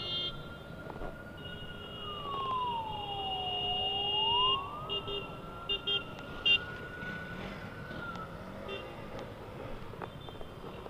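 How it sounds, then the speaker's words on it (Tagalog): A wailing ambulance siren at the junction of Makati Ave and Ayala Ave after an accident, one long sweep dipping and rising again, fairly distant under street noise with a few nearby knocks. "tabi muna kayo, may ambulansya, tabi lang kayo road, tabi"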